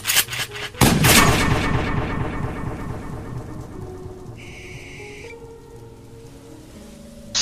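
A gunshot from a handgun dropped during an armed standoff on sand, a sharp loud crack followed by a long rolling echo and decay, alone with no talk.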